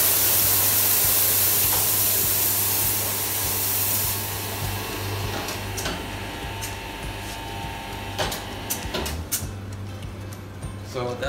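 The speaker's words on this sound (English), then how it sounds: "So that's how we rinse our grouping head." An espresso machine group head rinsed with water, giving a loud continuous hiss and spray of water that eases after a few seconds into quieter running water with scattered clicks and knocks.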